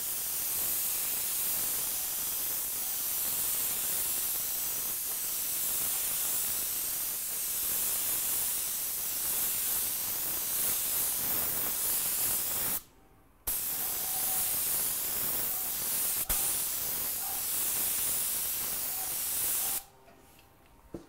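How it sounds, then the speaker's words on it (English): A spray gun, throttled down with a cheater valve, softly sprays NGR dye onto maple: a steady, close airy hiss that holds for long stretches and cuts out twice for brief pauses. "So it's a very soft, gentle spray."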